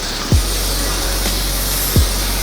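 Two short spray bursts in the game Amped Up, spaced about a second and a half apart over a steady hiss, fairly loud, with no talking.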